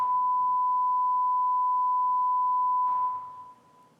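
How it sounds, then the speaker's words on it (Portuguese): A steady pure cosine tone sounds alone at constant pitch, with a click and a brief reverberant tail where the signal starts and again where it stops, then fades out. "como a gente tem o estalo, e como a gente escuta bem a reverberação no início e no final"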